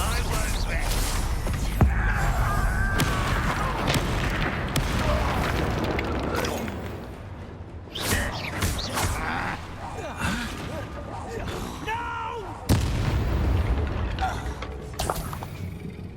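Bombarda spell explosions in the Hogwarts Legacy game, repeated heavy booms and crackling bursts among creaks, grunts and gasps, loud and close throughout.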